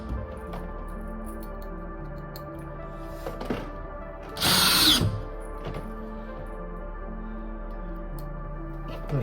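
A power drill drives screws into a van's ceiling during a camper build, with one loud whirring burst lasting about half a second midway, framed by quieter knocks and a low steady hum.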